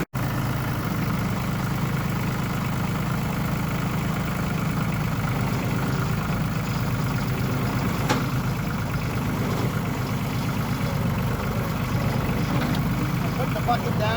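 A New Holland T1520 compact tractor engine runs at a steady, loud drone throughout while pulling forward during loader removal, close and continuous with a few faint clanks.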